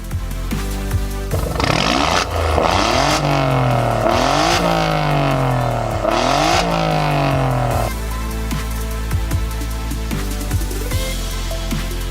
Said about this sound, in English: let's hear the car. Let it roar.